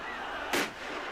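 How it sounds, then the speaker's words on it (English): A pyrotechnic explosion set off during a Japanese FMW hardcore wrestling match: one sharp, loud burst cracks out midway through a steady crowd and arena din, then quickly fades. "Now that's an explosion."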